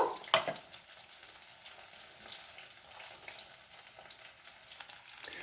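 Eggplant frying in oil, a quiet steady crackling sizzle with a sharper clatter at the start and faint stirring sounds, no speech.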